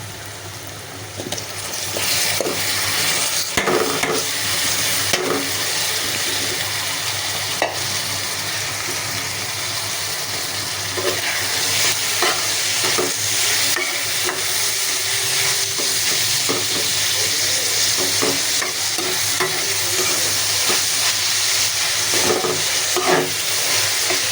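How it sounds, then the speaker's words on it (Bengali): Dried Cox's Bazar shutki fish frying with salt in a pan, a steady loud sizzle running throughout with repeated scraping stir strokes of a spatula, no voices. "এর সাথে মাছগুলো দিয়ে ভেজে ফেলবো"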